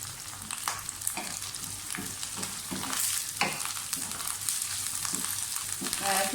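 Green chillies fry with garlic in oil for a mutton dish, giving a constant crackling sizzle with repeated scraping stirs of a spoon, close and fairly loud, with faint talk now and then.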